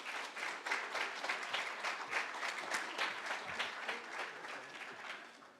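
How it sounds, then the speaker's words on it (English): An audience applauds at a civic event on voting and democracy, giving a sustained round of dense clapping that stays fairly steady throughout and fades slightly at the end, with no speech over it. "Y'all give her another round of applause."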